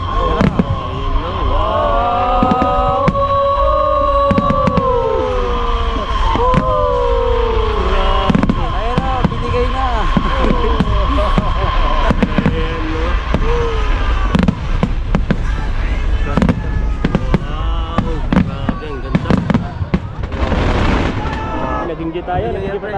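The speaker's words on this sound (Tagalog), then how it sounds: "Nasilayan po natin yung yung ganda po ng fireworks po dito sa Central Taichung." New Year fireworks over Central Park in Taichung, Taiwan pop and crackle in a continuous loud barrage of booms and bursts, with people talking and cheering close by throughout.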